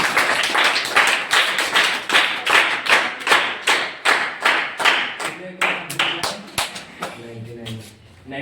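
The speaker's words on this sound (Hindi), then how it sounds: "ताली बजाइए।" An audience claps steadily together at a charity writing competition event in Ranchi, with loud rhythmic pulses that fade near the end as a voice speaks.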